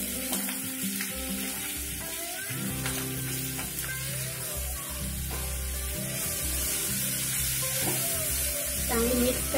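Green chilies frying in hot oil with asafoetida over a low flame, a steady hiss and crackle of sizzling with intermittent stirring clatter, close and continuous, with no talk.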